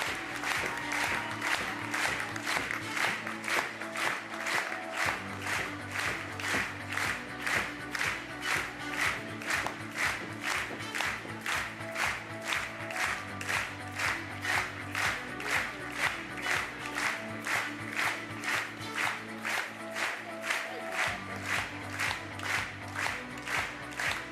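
Steady, rhythmic applause from a large crowd at a show jumping Nations Cup event in La Baule, sustained throughout at moderate distance, with a low drone underneath.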